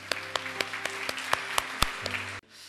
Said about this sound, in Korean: 우리 한번 하나님께 감사의 박수를 드리겠습니다